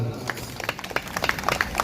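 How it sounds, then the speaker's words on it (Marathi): A live audience at a Marathi folk performance breaks into a brief patter of scattered clapping, fairly close and uneven. "एकदा दोरा टाळ्या वाजवा"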